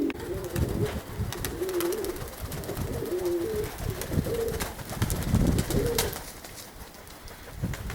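Pigeons coo in soft, repeated throaty bursts inside a dovecote, several birds calling close by over a rustling, breezy background.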